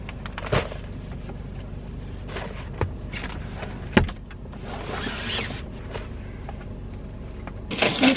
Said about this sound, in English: Just got in the car.